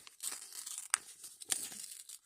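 A plastic packet is torn open close up, with crinkling and a couple of sharp rips amid quiet rustling.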